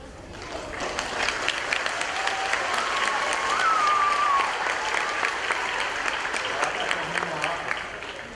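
A large audience at a Teacher of the Year announcement breaks into sustained, loud applause that holds steady for several seconds, with a few whoops mixed in.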